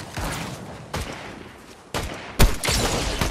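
Sniper rifle fire in Fortnite Chapter 5 Zero Builds ranked solo play: a few loud, sharp cracks spaced about a second apart over a steady bed of distant battle noise, with no talking.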